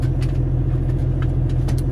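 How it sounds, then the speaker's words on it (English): A 2020 Kenworth W900 heavy-spec truck with an X15 Performance engine rumbles loudly and steadily up close, a deep continuous drone with no distinct rise, no voices over it. "So I'm just going to give the gas a little snap."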